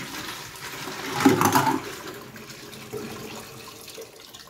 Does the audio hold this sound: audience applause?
no